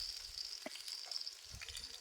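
Vegetables, beetroot among them, fry in a pan with a faint, steady sizzle and a few soft stirring sounds scattered through the two seconds.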